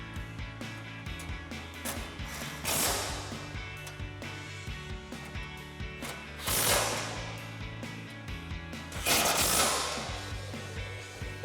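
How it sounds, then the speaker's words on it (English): An impact wrench with a 10mm socket tightening bolts on a steel rear bumper of a 2009-2018 RAM 1500, three short rattling bursts spaced a few seconds apart over a faint mechanical background. "we grab our impact with our 10mm socket and tighten them down"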